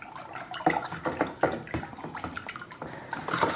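Fungicide powder stirred into a container of water for treating rose plants, giving soft irregular splashing and liquid swirling with faint clinks, close and moderately quiet, with no talking.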